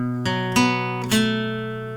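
An acoustic guitar plays a riff from a song without a pause: three quick plucked or strummed attacks within two seconds, ringing on with sustained, bright tones, close and clear with no talking.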